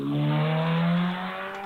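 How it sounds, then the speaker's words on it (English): An MG Midget race car leaves the start line at a Wiscombe Park hillclimb, its engine note loud and close, climbing as it accelerates away, then easing and fading slightly. "John Tandy departs the start line with his MG Midget"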